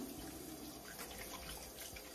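Water runs from a tap into a bathroom sink in a faint, steady splashing stream, close and uninterrupted.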